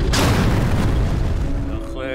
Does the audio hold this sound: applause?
no